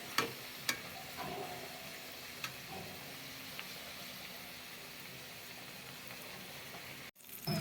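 Brinjal (eggplant) slices frying in a pan give a faint, steady sizzling hiss with a few light clicks and taps, then a brief dropout near the end.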